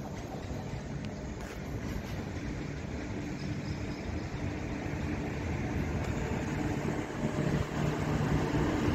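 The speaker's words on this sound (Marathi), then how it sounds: "मालगाडी आहे, बॉक्स मालगाडी. वॅग 7 लोकोमोटिव्ह आहे, 27233." A box freight train hauled by a WAG-7 electric locomotive rolls past a railway crossing under a bridge in Narendra Nagar, Nagpur, as a steady, fairly distant rumble that builds slightly over nine seconds with no talking.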